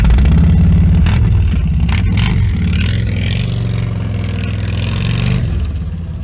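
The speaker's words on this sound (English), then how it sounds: "that motorcycle you heard just now comes from Tim O'Haron from Lyndhurst" A motorcycle engine revs loudly and close, its deep rumbling note rising and falling through repeated throttle blips before settling, with a brief metallic scrape partway through and no talking over it.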